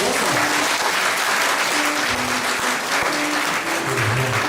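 Audience applause at a party, a steady dense wash of clapping that holds at full strength for several seconds, with faint voices and a few brief tones under it.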